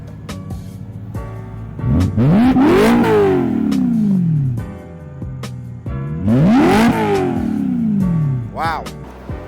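Car engine running with no muffler, revved hard twice in long rising-and-falling sweeps, loud and raw with a rough idle between bursts; voices talk over it.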